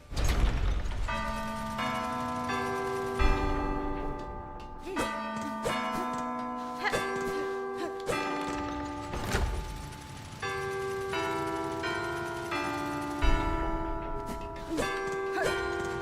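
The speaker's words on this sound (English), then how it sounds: "more bells." Bells in Hollow Knight Silksong ring in a series of clear, resonant chimes, struck one after another in an irregular rhythm, each tone lingering and overlapping the next with a faint ambient backdrop.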